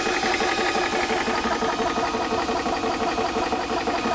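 A Spritech 4500 PSI portable 12-volt PCP compressor runs with a loud, steady mechanical drone and a faint rattling vibration, close and unbroken throughout.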